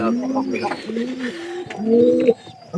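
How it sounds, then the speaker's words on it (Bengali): A male pigeon coos repeatedly to a hen in a loft, the low throaty rolling calls coming close and clear in several phrases, with a faint voice or bird chatter in the background. "এটা ডাকতেছে পাইরি রে যাতে করে তাড়াতাড়ি খুব তাড়াতাড়ি মানে ডিম দিতে পারে।"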